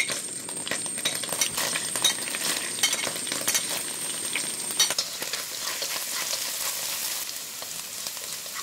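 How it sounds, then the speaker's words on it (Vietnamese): Garlic and onion frying in a pan with leftover oil, a steady close sizzle with intermittent stirring clinks and scrapes throughout. "Sau đó cho tỏi và hành vào phi thơm"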